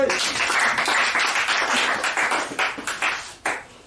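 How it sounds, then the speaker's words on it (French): A church congregation bursts into dense, sustained applause for Jesus Christ, with hand claps blending into a loud wash that thins out near the end. Voices mix in beneath it. "Acclame pour Jésus-Christ."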